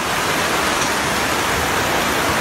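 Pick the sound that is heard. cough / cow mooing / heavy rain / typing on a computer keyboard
heavy rain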